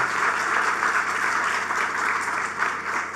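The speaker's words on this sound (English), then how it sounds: "I really think we should give her a round of applause." An audience claps at the outdoor launch of the One Family Programme in Golden Square Freedom Park. The applause is dense and sustained, loud and fairly close, and carries on steadily with no voices above it.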